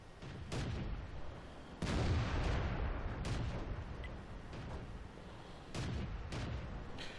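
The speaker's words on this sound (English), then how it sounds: "So I'm requesting my artillery to shoot at him" Artillery shells fire in World of Tanks: several heavy booming blasts come at irregular intervals, each loud, broad and rumbling, over a steady battlefield din.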